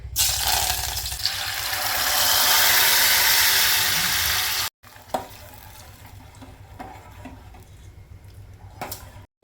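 Curry leaves and chilli pieces hit hot oil while moong dal is being tempered, giving a loud, steady sizzle that hisses strongly for several seconds, followed after a cut by quieter kitchen clinks and scraping.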